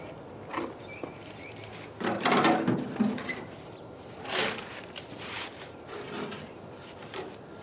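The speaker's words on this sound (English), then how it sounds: "We're going to slide it right up onto the downspout." A length of 4-inch solid corrugated plastic pipe is slid onto a downspout, heard as close, intermittent scraping and rustling bursts against a quiet outdoor background.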